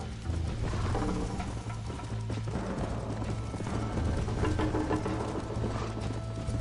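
Horse hooves gallop in Red Dead Redemption, a steady rhythmic clip-clop that holds close and loud throughout, mixed with the game's background sound.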